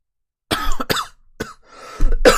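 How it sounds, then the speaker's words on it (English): A person coughs in a few harsh, raspy bursts close to the microphone, broken by short pauses, with a final rougher burst that sounds partly like throat clearing. "The coughing is not in character."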